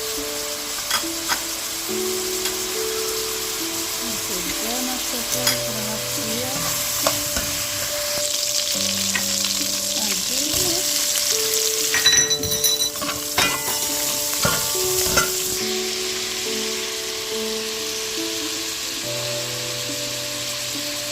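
Garlic sizzles and crackles in hot coconut oil for fried rice, with intermittent scraping and stirring clatter from a utensil against the pan, close and continuous.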